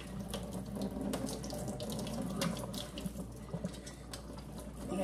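Cooked macaroni noodles are poured out to drain in a kitchen sink, giving a steady, soft rush of water splashing into the basin for several seconds, with no voices.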